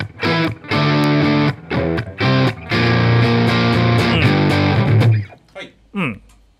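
A distorted electric guitar through a MESA Boogie Rectifier amp simulation in AmpliTube, modern channel: loud chugging chords and sustained riffs in several bursts, ending with a brief scrape as the notes die away, with no talking.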